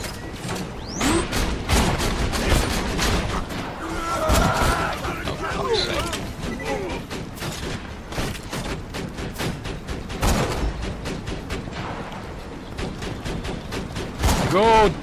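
A sentry gun in Borderlands 2 rattles out rapid bursts of gunfire amid clanking mechanical game sounds, dense and continuous throughout, with voices talking intermittently over it.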